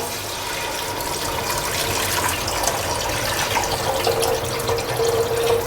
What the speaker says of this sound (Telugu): మనం ఇందాక నానబెట్టుకున్న చింతపండు రసం ఉంది కదా, సో అది మనం తీసుకొని ఇందులో వేసేస్తాం